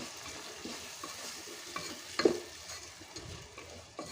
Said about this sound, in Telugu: ఒకసారి మొత్తం కూడా బాగా కలపండి